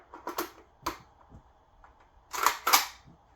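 Sharp metallic clicks and clacks as a PMAG magazine is seated into a rifle, a few scattered snaps followed by a louder double click, close and with no talk.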